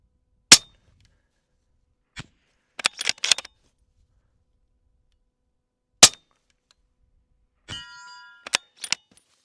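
Steel target rings from .308 rifle bullet impacts at long range, several sharp isolated clangs spread over the clip, with a gunshot crack and a brief ringing burst near the end; no talk.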